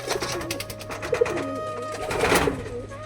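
Domestic pigeons cooing close by in a loft, a few soft throaty coos in short bursts over a low steady hum.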